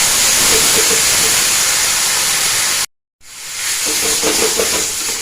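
Mashed pea pod paste fries in mustard oil with black cumin seeds, a dense, loud hiss that cuts out briefly to silence and then returns with crackling.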